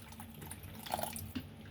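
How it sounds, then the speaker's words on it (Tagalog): A little water is poured into a cucumber salad with black fungus mushroom, a brief faint trickle and a few soft drips close by. "lalagyan natin ng konting tubig."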